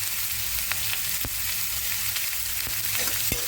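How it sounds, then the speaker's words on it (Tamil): Onion frying with a pinch of salt in a pan, giving a steady close sizzle with a few sharp crackles and pops scattered through it. "இந்த வெங்காயம் நல்லா வதங்கட்டும்."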